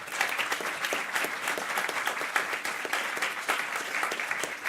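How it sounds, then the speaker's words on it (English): Audience at a civil society forum applauds a panel, a continuous patter of many hands with individual claps standing out, moderately loud and steady with no speech on top. "Give them a big applause."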